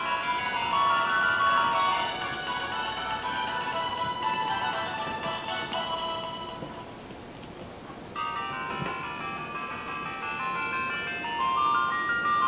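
Chiptune music and game sounds from a WonderSwan Color handheld at maximum volume, a steady stream of bright, tinny bleeping melody with a brief dip partway through, heard alone without talk.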